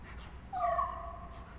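Dog whimpering in the video game Luigi's Mansion: a short, thin whine rising and sliding in pitch, fairly close and moderately loud over a low game background hum.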